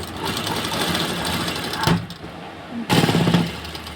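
Sewing machine stitching a seam on a tucked blouse, running in steady rapid bursts with a brief pause before restarting, close and fairly loud.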